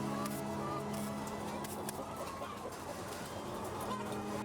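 Laying hens crowded together on an industrial egg farm in Russia, a dense continuous chorus of clucking from many birds at once, steady and close with no pauses.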